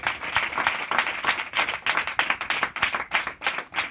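A church congregation claps loudly in a fast, even rhythm. Dense overlapping hand claps pulse steadily and close for a few seconds.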